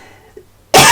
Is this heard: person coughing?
yes